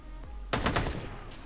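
A burst of rapid gunfire erupts suddenly in a free online first-person shooter, loud and close, with a sharp onset and a trailing rattle that fades out.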